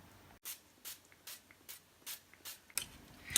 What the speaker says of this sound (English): spray it with some fry light just to get the pan all prepared